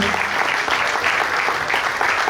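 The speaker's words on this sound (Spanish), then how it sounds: "Por favor, llévate a casa este gran aplauso." Close, loud applause from an audience honoring Felipe at a Zaragoza event about La Romareda, a continuous dense wash of clapping without pause.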